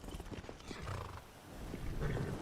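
Horse in the video game Skyrim, with clip-clop hoofbeats and neighing or whinnying sounds close up over a busy game soundscape, no talking.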